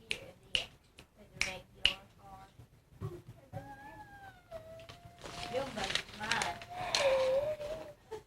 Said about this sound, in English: You snap your fingers, Daniel.